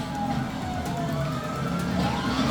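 A police car siren wails in GTA V, a steady, continuous siren tone over engine and traffic noise, fairly loud throughout the short stretch.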